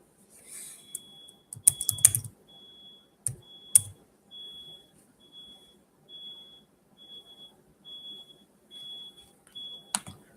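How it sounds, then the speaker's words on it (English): Steady high-pitched beeps repeat at an even pace, like a reversing truck's alarm, heard over a quiet room with a few sharp clicks and knocks. "Can you guys hear like a beeping sound, like a truck backing up?"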